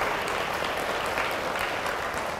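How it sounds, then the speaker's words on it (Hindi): A church congregation claps together in sustained, dense applause that holds steady and fairly loud from start to finish, with no voices standing out above it. "अभी आपको ताली बजाने का और समय मिलेगा तब आप बजा लीजिएगा"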